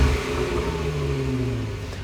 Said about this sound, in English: We're definitely going to get a little bit more volume and a nice low exhaust note out of that exhaust system.